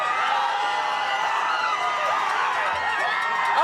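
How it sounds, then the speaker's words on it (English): A dense, roaring crowd cheers and whoops continuously at the Denver Nuggets championship parade, with shouting voices blended into a loud, sustained wash of noise. "You can barely hear. The crowd is so loud."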